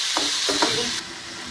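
Diced tomatoes are stirred through a sizzling mix in a frying pan for a Mexican grilled sandwich filling. A steady hiss of frying carries a few quick scraping stir strokes close by before the sizzle drops lower.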